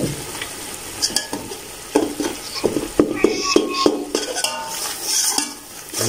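Whole spices such as bay leaf, cinnamon and spice flowers fry with biryani masala and salt in a pan for potato and egg biryani, sizzling loudly under repeated clattering scrapes of a spoon, close up and without speech.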